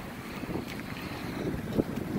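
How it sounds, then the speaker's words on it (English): Wind buffets the microphone in rumbling gusts, a low blustery roar with a sharper thump near the end and no voices. "It's windy as fudge."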